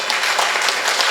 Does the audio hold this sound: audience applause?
yes